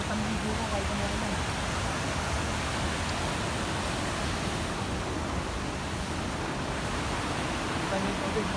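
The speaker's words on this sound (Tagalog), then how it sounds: "Ito na pala, may falls na. Lumaragas na yung tubig." Continuous dense rush of a waterfall in Norway, a steady broadband roar that never lets up, fairly distant and even throughout.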